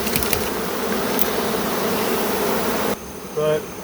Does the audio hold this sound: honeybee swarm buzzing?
yes